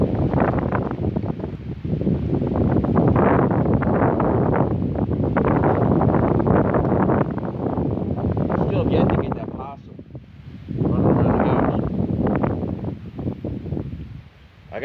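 Strong wind buffets the microphone outdoors ahead of an evening storm, roaring loud gusts with a brief lull partway through, while someone talks over it.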